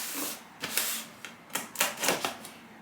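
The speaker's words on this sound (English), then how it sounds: "got my scissors here" Scissors snip and slice open a cardboard package box, giving a series of sharp, crisp cuts and scrapes in irregular bursts, close and fairly quiet, with no talking.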